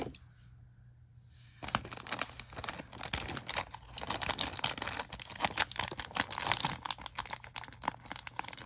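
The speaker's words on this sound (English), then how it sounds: "I'm going to take my scissors, I'm going to do that." Scissors snip through a plastic candy sushi kit packet from Kracie Popin' Cookin', close up. After a quiet second and a half comes a steady run of crisp cutting clicks and crinkling plastic.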